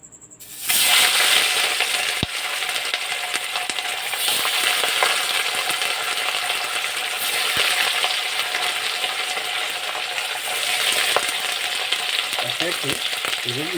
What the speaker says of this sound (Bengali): মাছগুলোকে দিয়ে দেবো মাছগুলোকে ভালো করে ভেজে দেব